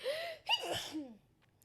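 A single sharp sneeze with a quick intake of breath before it, close and fairly quiet, followed by a short exhale.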